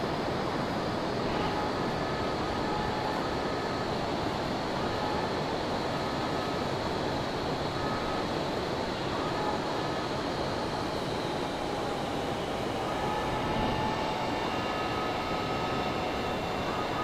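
A plane in Microsoft Flight Simulator gives a steady, continuous broadband roar of engine and airflow, unchanging and loud for the whole stretch with faint tonal whines layered on top.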